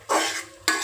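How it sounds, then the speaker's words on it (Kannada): Vegetable noodles are tossed in a pan with a utensil, giving two brief scraping, rustling strokes in close succession with no talk. "ಹಿಂಗೆ ಮಿಕ್ಸ್ ಮಾಡ್ಕೊಳ್ಳಿ"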